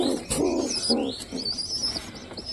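Giribaz pigeon cooing softly on its nest, a few low rhythmic coos near the microphone with faint chirps and higher bird calls in the background.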